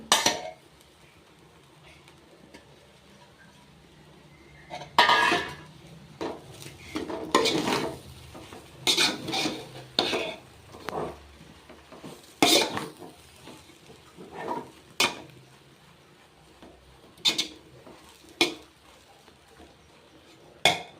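A spoon stirs borugula vagarni, a North Karnataka puffed-rice dish, in a metal pan, with irregular scraping strokes and sharp clinks over a faint sizzle. No one speaks.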